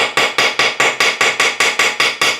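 A hammer strikes a Dinky or Corgi toy axle shaft in eleven sharp, evenly spaced blows, each ringing bright and close before the next strike, with no voices.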